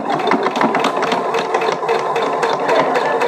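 Sewing machine stitching fabric along a marked outline, a steady, fast mechanical whir with rapid rhythmic needle clatter running continuously and close, with no talking.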